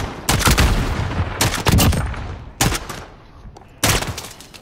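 Gunfire from a light machine gun in a first-person shooter game, four sharp loud bursts of rapid shots separated by short pauses, each burst trailing off with a brief echo.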